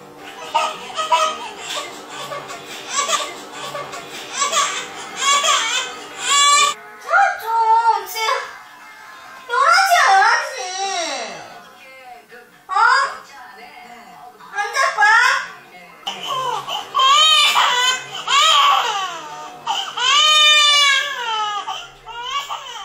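A baby cries in repeated wailing bursts separated by short pauses, loud and close, with a few quieter breaks and some brief child vocal sounds between the sobs.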